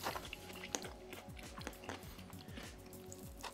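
Close, wet chewing and biting through a mouthful of Italian sausage and sweet pepper frittata with gooey mozzarella and basil, steady mastication repeating several times over a quiet room.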